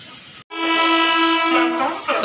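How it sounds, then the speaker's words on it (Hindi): A train horn sounding as a train arrives at crowded Pandhurna station near Nagpur, a loud, sustained tonal blast that follows a brief gap in the background noise and holds steady. "तो भाई ट्रेन आ चुकी है"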